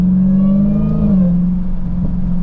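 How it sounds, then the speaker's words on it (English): A 2023 Dodge Challenger Hellcat Redeye Widebody at about 2,800 RPM on light throttle gives off a loud, steady supercharger whine riding over the deep engine drone, with pitch dipping slightly midway and no talking. "you can hear the supercharger whine so clearly"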